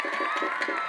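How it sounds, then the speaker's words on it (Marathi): A crowd at a Maharashtra kushti wrestling dangal claps and cheers in a brief, loud, dense burst of mixed voices. "एकदा जरा जोरात टाळ्या करा की अमित भाऊ साठी,"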